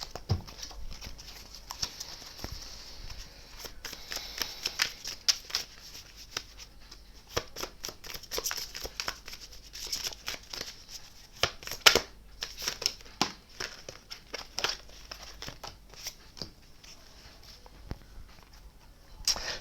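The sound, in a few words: shuffling tarot cards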